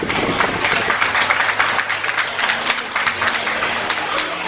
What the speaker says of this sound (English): Round of applause for Kombanda Utama Buddhist Society